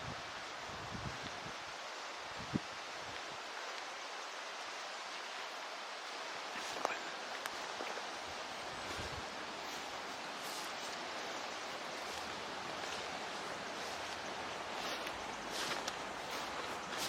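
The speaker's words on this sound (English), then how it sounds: "The wind's getting up." Wind gusts across an outdoor graveyard at Rookhope in Weardale, a steady broadband rush with buffeting against the microphone, faint voices talking beneath it.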